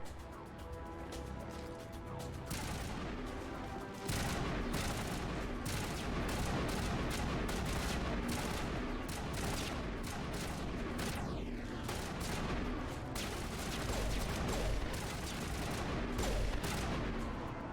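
Sustained, dense gunfire in Mass Effect Legendary Edition: rapid weapon shots crackle nonstop after a brief tonal lead-in, loud and continuous, with no talking.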